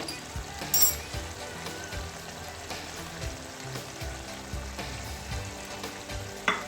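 Shalgam keema frying over a high flame as green chillies go in, a steady close sizzle with occasional stirring scrapes and clinks.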